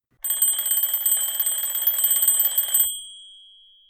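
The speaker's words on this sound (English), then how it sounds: "The alarm clock rings louder and louder." An alarm clock rings continuously for almost three seconds, a loud, steady, shrill electronic trill, then cuts off and leaves a fading echo.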